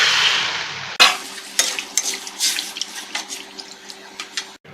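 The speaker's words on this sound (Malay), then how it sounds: "So we add in our plain water" Plain water pours into a pan of sautéing ingredients for an anchovy dish, a brief rushing splash followed by a series of clinking stirring scrapes and light sizzling, close and fairly loud.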